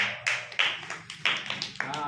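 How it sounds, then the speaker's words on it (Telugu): A group of children at a Sunday school class clap in short, uneven bursts of sharp claps, with voices heard alongside. "ఇక్కడికి చప్పట్లు పెట్టండిరా"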